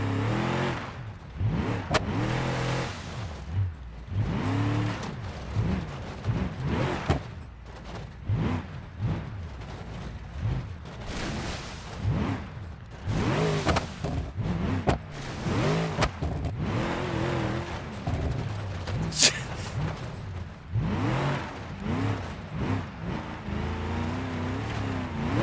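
Twin-supercharged Jeep engine in the driving simulator BeamNG.drive, revving hard again and again with rising and falling roars, loud and close, with brief dips between bursts of acceleration.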